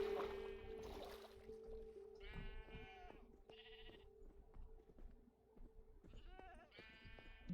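Sheep in the Minecraft video game bleating several times, wavering calls spread across the scene, clear against a steady low background hum of game ambience.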